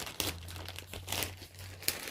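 A mail package is slit open with a knife: paper or plastic packaging crinkles and rustles in a few short, soft bursts, close by and fairly quiet, with one sharper crackle near the end.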